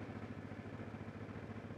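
A motorcycle that has sat unused for about two weeks idles to charge its battery, a faint, steady low putter with an even pulsing rhythm.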